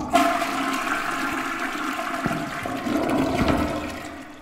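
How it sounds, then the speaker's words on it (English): A toilet flushes in the game Toiletrooms, a steady loud rush of swirling water that holds for several seconds and then starts to ease, with no talking over it. "Yes, we can flush."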